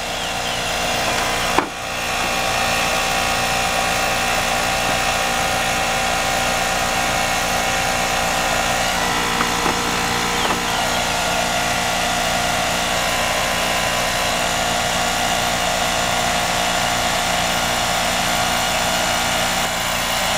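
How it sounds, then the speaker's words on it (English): Refrigerant blows out of a faulty air conditioning system as a loud, steady hiss and roar that runs on without break after a brief thump near the start. "Blowing refrigerant."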